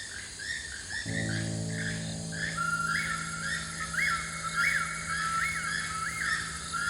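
A bird whistles a song of repeated rising, chirpy notes in an animated fairy tale, heard over a sustained low musical drone that enters partway through; no talking.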